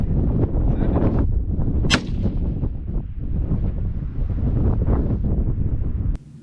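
A single sharp 7.62x39 rifle shot, firing a Nosler 125gr Ballistic Tip round outdoors, cracks out amid heavy, constant wind buffeting on the microphone, followed by a brief click near the end.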